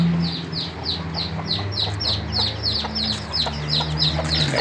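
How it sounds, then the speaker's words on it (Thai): Fighting cocks cluck and chirp repeatedly in quick succession, fairly close, over a low steady background hum. "มีไก่ชนนะครับ"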